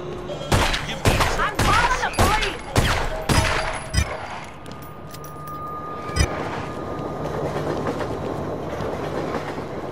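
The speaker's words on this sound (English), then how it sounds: "Try to shoot that dummy from the corner." A run of loud gunshots aimed at a practice dummy in The Godfather video game, about eight sharp evenly spaced shots over four seconds, then a lingering background hum with one more distant shot.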